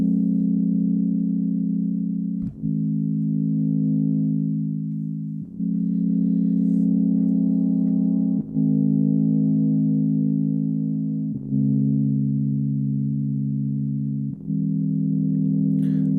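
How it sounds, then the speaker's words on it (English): A basic four-chord progression on a Poly D synthesizer, warm sustained low chords changing roughly every three seconds with a smooth, effect-coloured tone, steady and loud with no talking. "So I started with a really basic chord progression, just a 4-chord chord progression on my Poly D."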